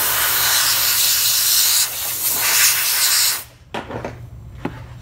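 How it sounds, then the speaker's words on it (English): An air nozzle blows a steady, loud hiss of air across dental wax on an acrylic partial denture model. The hiss holds for about three and a half seconds, then cuts off, leaving a few faint clicks and bumps. "I'm just going to chill this wax a little bit more with the air nozzle."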